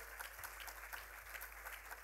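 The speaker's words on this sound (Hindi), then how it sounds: "एक बार और ज़ोरदार तालियाँ जो हैं हो जाएं" Faint, continuous applause from an audience at a Hindi event on Gandhi, even clapping throughout a short stretch with a low hum beneath.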